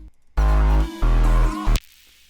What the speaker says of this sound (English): It's like really wavy. It's really dark and wavy type of lead.